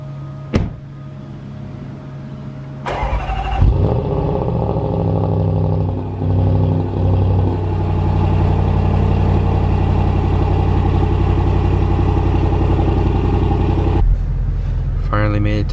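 An SVR car's engine cranks and fires up with a sharp catch, then settles into a loud, steady idle heard up close, with a brief click and some rustling before the start.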